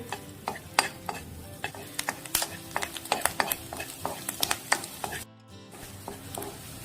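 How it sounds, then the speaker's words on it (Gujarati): Garlic cloves fry in butter on a flat pan, a soft sizzle running beneath rapid, close clicks and taps of a utensil stirring against the metal. "તેને થોડી બ્રાઉન થાય ત્યાં સુધી આપણે બટરમાં ફ્રાય કરીશું."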